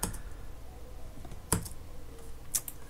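A few isolated key presses on a computer keyboard give sharp, sparse clicks against a quiet room hiss.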